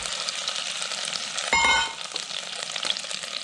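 Sliced onion fries in melted butter for a sweet and sour cabbage and tomato soup, a steady close sizzle with a brief louder burst and ringing clatter near the middle as the onion goes in.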